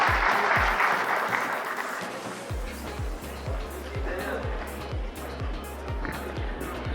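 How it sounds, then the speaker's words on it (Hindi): Audience at a workshop clapping to welcome a speaker, a dense burst of applause that eases slightly and carries on steadily under a low rhythmic thumping hum. "एक बार तालियों से उनका स्वागत करेंगे"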